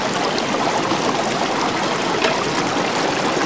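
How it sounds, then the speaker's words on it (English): Water poured from a gold-panning sluice into a bucket makes a steady, close splashing gush that runs unbroken and fairly loud throughout, with no talk. "Have a bucket with some water in it, dump it down into the bucket"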